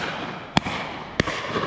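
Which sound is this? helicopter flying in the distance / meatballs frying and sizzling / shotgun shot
shotgun shot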